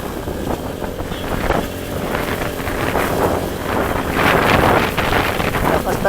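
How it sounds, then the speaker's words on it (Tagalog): Strong, cold wind buffets the microphone in continuous gusty rumbles during a motorcycle ride, loud and close, swelling stronger near the end, with faint background noise underneath. "Lakas talaga ng hangin,"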